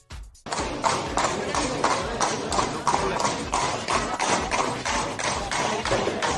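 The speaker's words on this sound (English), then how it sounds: "Horse carriage." Video game horse carriage hooves clip-clop in a brisk, even trot on a hard surface, each hoof strike sharp and close, continuing steadily throughout.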